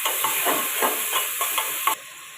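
Tomatoes and curry leaves sautéing in hot oil for mutton kulambu, a hissing sizzle broken by rhythmic stirring scrapes about every third of a second, close, then the sound drops off abruptly near the end.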